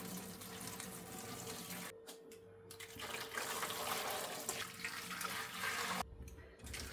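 Boiling water pours steadily from a container into an air fryer drawer, a continuous splashing rush with brief pauses, no voices.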